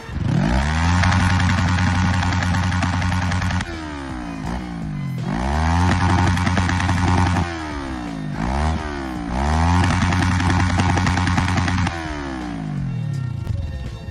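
A motorcycle with a restricted throttle revved hard on the spot against its rev limiter, loud stuttering engine bursts in three or four long runs, each dropping back briefly before climbing again.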